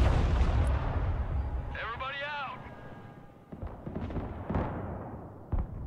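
Artillery fire in the video game Broken Arrow, heavy booming blasts rolling through the clip under game radio chatter and a voice, with several sharp impacts near the end.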